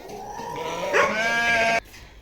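A sheep gives one long wavering bleat on a farm, close and loud for over a second before it cuts off abruptly, with faint background noise and no talking.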